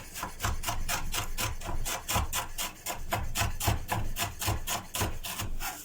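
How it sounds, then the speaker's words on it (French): A knife rapidly and finely chopping parsley on a wooden board, a steady run of crisp, evenly spaced taps close up with no talk. "Et maintenant le persil, pas beaucoup, hein. Juste un tout petit peu. Ciselé très finement."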